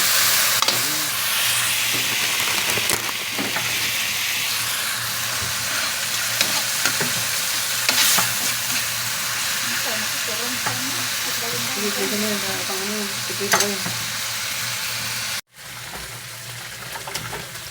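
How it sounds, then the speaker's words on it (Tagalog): Sardines hit browned garlic and onion frying in a pan, a dense continuous sizzle with scattered pops and stirring noises, faint voice-like tones midway, ending in an abrupt cut to quieter frying. "brown na yung bawang sibuyas. Ilagay na yung sardinas."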